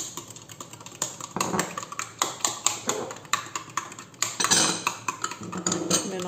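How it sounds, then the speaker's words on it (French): A utensil stirring water, yeast and sugar in a bowl for easy homemade bread, giving a fast run of light clinks and taps against the dish, close and irregular, with no voices. "et on va mélanger."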